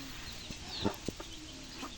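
Soft, short clucks from chicks feeding come in a few scattered bursts over a quiet outdoor background.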